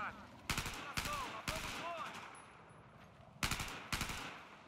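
Gunfire in the video game Battlefield 4 campaign on PC, a few separate bursts of rapid automatic shots standing out from quieter ambient game sound, with short gaps between bursts.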